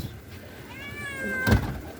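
A cat meows once, a drawn-out rising and falling call close to the listener, followed by a short thump, with no talking.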